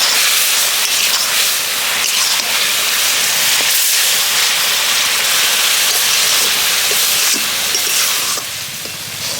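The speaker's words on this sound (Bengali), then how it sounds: "এবারে আমি এইভাবে হাত দিয়ে অর্থাৎ খুন্তি দিয়ে নেড়ে নেড়ে সুন্দর করে আরেকটু শুকিয়ে নেব" A thick raw papaya sweet mixture is stirred with a spatula in a hot pan, giving a loud, steady hiss with a few scraping clicks that softens near the end.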